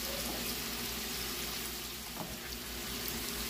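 Chopped green tomatoes stirred in a hot pan for ranchera pork chops, a steady soft sizzle with faint scraping under a continuous low hum throughout.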